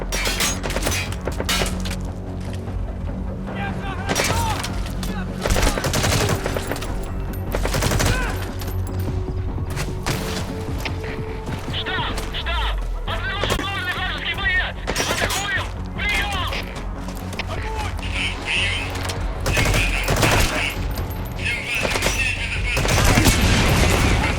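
Loud unsuppressed gunfire in Metal Gear Solid V: The Phantom Pain, with rapid bursts and single shots scattered throughout, alongside thuds, mechanical game effects and occasional voices.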